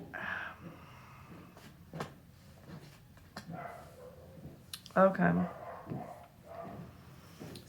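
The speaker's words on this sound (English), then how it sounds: "sorry about the dog in the background" A dog barks a few times in the background behind a person speaking steadily indoors, with one louder, closer burst of barking midway.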